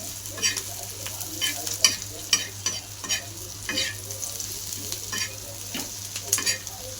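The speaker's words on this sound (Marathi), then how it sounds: "आपण कांदा भाजून घेऊ चांगला लाल कलर" Onion browning in a pan for a black-masala chicken curry, stirred as it fries: a continuous close sizzle broken by frequent scraping spatula strokes and light knocks, over a low steady hum.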